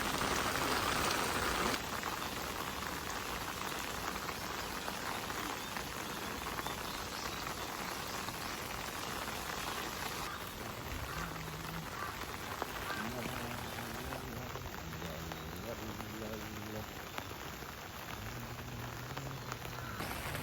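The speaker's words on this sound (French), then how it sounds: "J'aime beaucoup l'ambiance que ça donne avec la pluie" Steady rain falling around temples and shrines in Japan, a dense continuous patter on surfaces throughout, with a voice talking softly in the background partway through.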